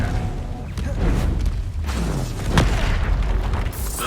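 Booming magical spell blasts in Hogwarts Legacy, a dense rumbling burst with a sharp crack near the middle, layered over continuous game effects and low roar.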